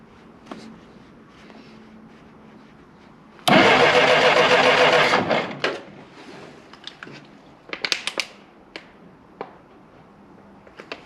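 Jeep Willys engine cranking and catching after the ignition is switched on, a sudden loud burst of about two seconds that fades out, followed by scattered clanks and handling noises in a workshop.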